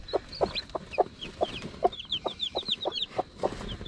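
A mother hen sitting on newly hatched chicks clucks low and rhythmically in a steady pulse while the chicks peep in high, rapid chirps, all close by and clear.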